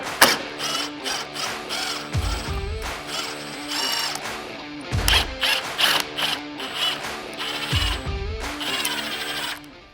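A nut being removed with a T30 Torx bit and a 10mm wrench while installing a winch on a Can-Am Maverick X3, with close metallic clicks, ratcheting and clinking, several heavier knocks spread through the work.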